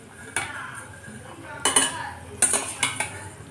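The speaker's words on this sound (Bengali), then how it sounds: "এবারে আমি একে একে ওই মাছগুলো দিয়ে দেব।" Pieces of bhola fish go one by one into boiling water in a metal pan, with a few clinks and knocks of utensil against pan and soft splashes over a low bubbling background.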